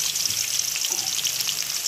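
Eggplant pieces deep frying in hot ghee over high heat, producing a bright, steady crackling hiss with small popping bursts and no voices.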